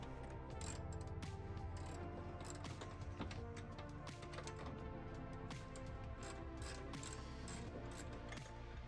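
A ratchet wrench works loose the upper radiator bolts on a Toyota FJ80 during a power steering line replacement, giving a steady, close run of rapid clicking that lasts throughout.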